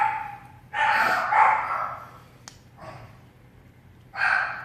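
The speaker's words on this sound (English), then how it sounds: "They got my dogs going." Several dogs barking in bursts, loud and close, with pauses between volleys and a sharp click in the middle.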